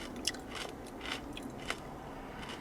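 Crunchy tempura squid chewed up close in Chiba Prefecture, Japan, giving several crisp bites and crunches spaced irregularly over quiet background, with no talking.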